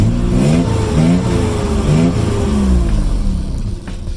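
Nissan Z engine with a new intake filter revving repeatedly from outside the car, a close, loud mid-pitched engine note rising and falling in several quick blips.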